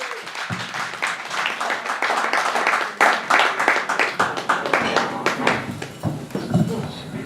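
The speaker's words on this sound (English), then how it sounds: "let's give a big round of applause and a big welcome to the stage" A crowd at a Christmas evening event applauds as a performer comes onto the stage, sustained close-range clapping with scattered cheers and voices mixed in over several seconds.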